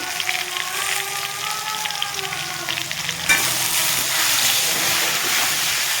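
Fried katla fish being stirred with salt and turmeric in a hot pan, a steady oily sizzle with scraping stirs that grows louder and brighter partway through.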